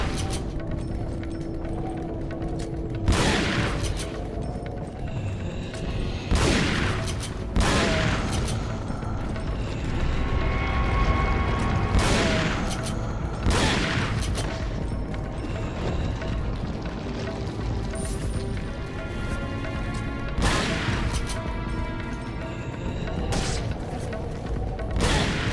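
Shotgun fire in the Separate Ways game: a series of loud, sharp blasts spaced several seconds apart over about twenty-five seconds, with booming tails, rumbling game action and faint music between shots.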